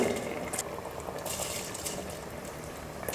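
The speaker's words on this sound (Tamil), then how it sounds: "தண்ணி நல்லா கொதிக்க ஆரம்பித்ததுக்கப்புறமா அரிசி சேர்த்துக்க போகிறேன்" Water boils steadily in a pressure cooker as soaked rice goes in for tomato rice, a soft continuous bubbling hiss with faint splashes and no talk.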